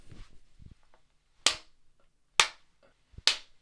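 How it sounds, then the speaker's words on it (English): Three sharp, loud hand claps at roughly one-second intervals, made to sync audio, each standing alone in quiet after a bit of low murmuring at the start. "I really don't know how I'm going to clap and hold this microphone to align the audio here."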